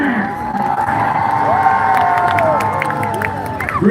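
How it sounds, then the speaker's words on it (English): A crowd at a monster truck show at a fair cheers and whoops loudly, with shrill shouts rising and falling over a steady roar of voices and a little clapping. "Give him a little applause here right now."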